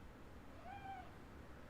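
A kitten gives a single short, faint meow against a steady background hiss, with no talking.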